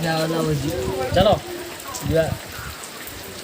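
Steady rain falls outside during a wedding, a continuous hiss across the whole clip beneath someone speaking up close.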